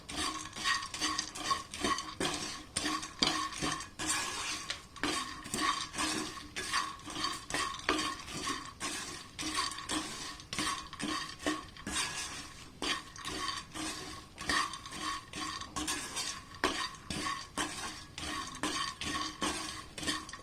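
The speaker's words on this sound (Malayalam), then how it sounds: "അതുവരെ നമുക്കൊന്ന് ഒരു 2 മിനിറ്റ് ഇതുപോലെ ഒന്ന് ഇളക്കി കൊടുക്കാം." Roasted peanuts coated in masala powder stirred steadily in a pan, a quiet, rhythmic rattle and scrape of nuts and spoon against metal repeating for about twenty seconds with no voices.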